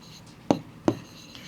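Pen strokes on paper while an English grammar sentence is written out, two short scratchy marks roughly a third of a second apart, close and fairly quiet with no talk.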